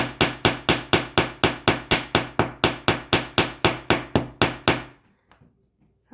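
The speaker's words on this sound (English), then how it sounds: "and hammer this." Rapid, even hammer strikes on wire being shaped for star earrings, about eighteen sharp metallic taps in a steady rhythm, close and loud, then stopping into near silence.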